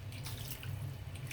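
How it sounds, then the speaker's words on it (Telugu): Water pouring into a drumstick, capsicum and egg curry in a pan: a soft, steady trickling stream, quiet and alone throughout. "ఇప్పుడు మనం వాటర్ వేసేసి కర్రీ ఉడకనిద్దామండి."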